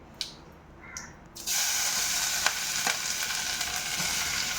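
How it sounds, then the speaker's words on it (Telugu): Grated carrot dropped into hot ghee in a pan, a few soft clinks first, then a sudden loud steady sizzle that keeps going, close and alone without talk. "నెయ్యి హీట్ అవుతుంది. అంతలో మనం ముందు తురుము పెట్టుకున్న క్యారెట్ ఉంది కదా, ఆ క్యారెట్ తురుము వేసుకోవాలి."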